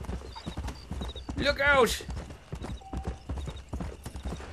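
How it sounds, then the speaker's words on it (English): Horse hooves clip-clop at a steady gait in the Red Dead Redemption video game. A brief whinny breaks in, and a voice shouts over the hoofbeats. "So let's get on my horse."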